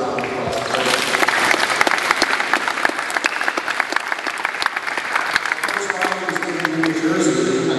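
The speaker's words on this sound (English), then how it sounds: "So let's have a round of applause" Audience applauding a new recruit at a McMaster University men's basketball recruiting class welcome, sustained loud clapping from a room full of people, dense and even throughout.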